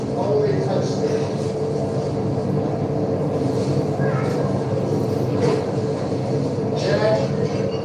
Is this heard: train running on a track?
yes